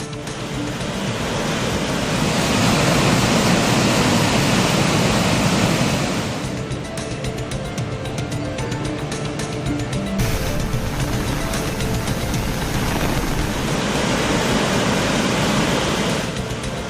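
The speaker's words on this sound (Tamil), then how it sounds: "ஒகேனக்கலில் முக்கிய அருவி, சினி அருவி, ஐந்தருவி உள்ளிட்ட இடங்களில் தண்ணீர் ஆர்ப்பரித்து கொட்டுகிறது" Water roars down the swollen waterfalls at Hogenakkal, including the main falls, Cini falls and Aintharuvi, after continued rain: a loud, steady, unbroken rushing wash that fills the whole scene with no voices.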